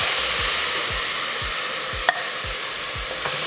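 Tomato sauce sizzles and spatters in hot oil with rice in a pan: a steady, dense hiss with regular low scraping strokes of stirring about every half second and one sharp pop.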